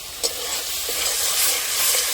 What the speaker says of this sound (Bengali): তো আমার মশলাটা কিন্তু ভাজা হয়ে গেছে।